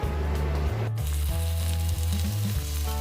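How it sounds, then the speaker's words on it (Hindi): Mixed vegetables fry in about two spoons of oil, producing a loud, dense, continuous sizzle right up close. A low, tonal hum under the sizzle shifts pitch now and then, and there is no talking. "2 स्पून जितने ऑयल में ही मैं इसे फ्राई कर रही हूँ"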